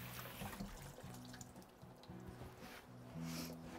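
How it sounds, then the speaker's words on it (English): A kitchen tap runs while a utensil is rinsed under it, giving a continuous close splashing and trickling of water with a faint low hum behind it. "Just going to quickly rinse this off because I think I'm going to be needing it again."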